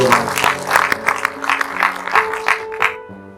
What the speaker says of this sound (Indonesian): yang percaya berikan tepuk tangan beri waktu